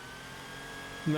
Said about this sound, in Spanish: We recorded on dyno in control environment in a chamber.